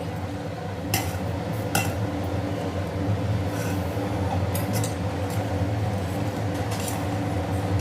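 Wheat flour kali dough being stirred in a pan, with a steady low scraping churn and a few sharp metallic clinks of the utensil against the pan.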